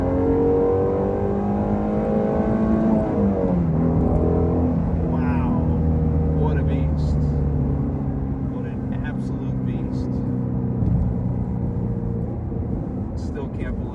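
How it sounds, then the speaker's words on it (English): A 2020 Shelby GT350 easing off the throttle on a winding backroad, its engine note falling away while scattered exhaust crackles and pops break through, with someone talking over much of it. "you get the cracks and popples."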